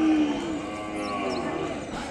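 A calf at the Kodada cattle market in Telangana gives a steady, close moo that lasts the whole two seconds, with the market's background hum beneath it.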